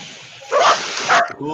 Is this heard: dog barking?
yes